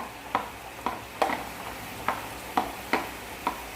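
A spatula clacking against a pan while vegetables such as carrots are added to vegetarian sweet and sour eggs, a steady series of about eight sharp taps over a soft sizzle.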